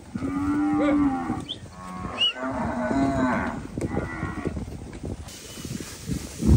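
Nelore cattle mooing repeatedly while being herded on a ranch, several loud, drawn-out calls from different animals close by over hoof and movement noise, with a few brief shouts from a herder.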